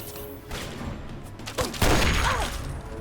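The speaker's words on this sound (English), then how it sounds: "Who is shooting at me" Gunfire rattles in the video game Fallout 3, with a Mark V turret firing in bursts that grow louder and denser toward the end.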